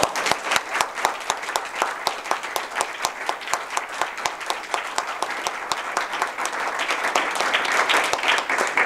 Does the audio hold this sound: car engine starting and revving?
no